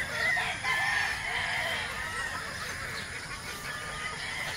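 Gamefowl pullets on a game farm cluck and chatter in a dense, overlapping chorus of moderate loudness, with a busy bird-filled background throughout.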